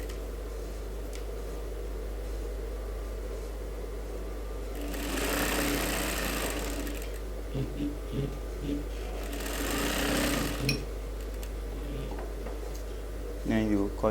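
An electric sewing machine stitches pieces of a women's suit together in two loud buzzing runs of a couple of seconds each, separated by quieter pauses with low mechanical hum and clicks.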